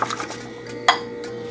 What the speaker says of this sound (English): Whisk it nicely so to get out all the lumps.